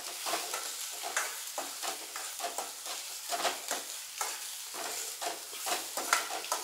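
Ground masala paste for egg curry is stirred in a pan over heat, giving soft rhythmic scraping strokes against the metal under a faint sizzle. The strokes repeat steadily and sit fairly quiet and close.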